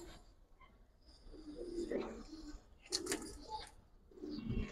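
Giribaz high-flyer pigeons with silver colouring coo softly at close range in short, uneven bursts, mixed with brief rustling flutters.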